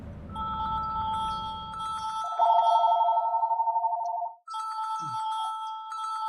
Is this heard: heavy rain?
no